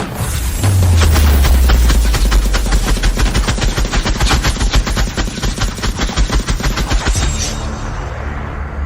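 A long burst of rapid machine gun fire rattles loudly and continuously for several seconds, with a deep rumbling underneath before it trails off.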